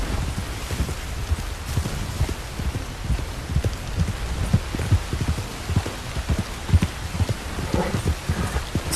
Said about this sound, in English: It's always gotta be raining